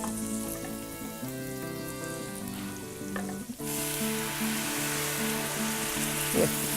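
Ground beef with about 20% fat browns in a pan, a continuous sizzle that grows louder partway through, accompanied by occasional stirring over background music.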